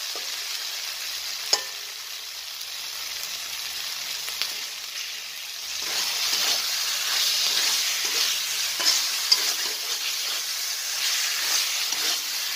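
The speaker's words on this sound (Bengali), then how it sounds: "তো কষিয়ে নিচ্ছি ভালো করে, 5 মিনিট ভালো করে কষানোর দরকার আছে।" Food being stirred and sautéed in an open, uncovered pan before macaroni is added: a steady broadband sizzle that swells louder about halfway through, dotted with sharp scraping clicks from the utensil, with no voices.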